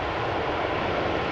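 Iberia airliner arriving at Amsterdam Schiphol Airport, a steady broadband engine roar held at an even level throughout, heard alone with no voices.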